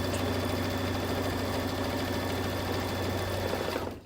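An embroidery machine stitching the quilting on a fabric mug rug, a fast, even mechanical hum and needle chatter running steadily up close before stopping abruptly near the end, with no talking.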